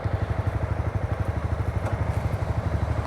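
A Honda 300cc motorcycle engine fires up and settles into a steady idle, its low, even thumping pulse close and clear with no talking.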